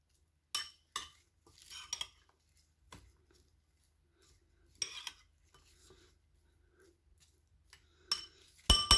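Fish filling for stuffing crucian carp is stirred in a bowl with a spoon. Sparse, quiet clinks and scrapes come in short bursts between silent gaps.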